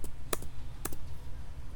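A few light keystrokes on a computer keyboard while entering a Linux terminal command, two or three sharp isolated clicks over a low background hum.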